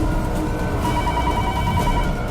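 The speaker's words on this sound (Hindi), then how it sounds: "फोन उठाइए।" A telephone rings with a steady electronic tone over a low background hum, loud and close, in a crime drama scene.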